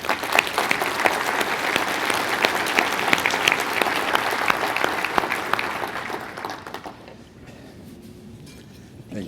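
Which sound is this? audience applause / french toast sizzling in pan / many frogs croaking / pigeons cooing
audience applause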